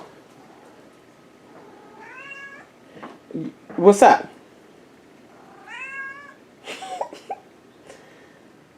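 An indoor house cat gives two clear, drawn-out meows a few seconds apart, with a person speaking briefly and a cough-like burst between them.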